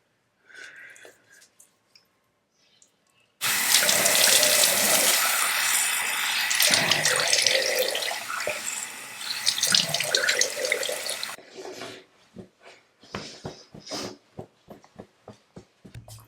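A shower runs at full force, a bright steady hiss of water spraying and splashing for about eight seconds, then shuts off. It is framed by quieter bathroom handling sounds before and after.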